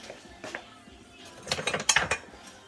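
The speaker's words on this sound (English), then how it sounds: "I'm going to put my salt in my flour. And I'm going to stir that up real good." A spoon clinks and scrapes against a bowl as flour and salt are stirred together for bread dough, a few quiet taps early and then a busier burst of clinking near the end.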